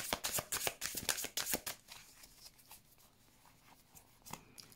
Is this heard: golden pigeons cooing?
no